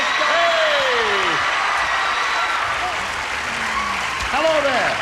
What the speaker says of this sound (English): A round of applause for our stars